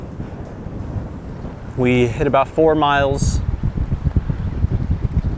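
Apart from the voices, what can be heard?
wind blowing outdoors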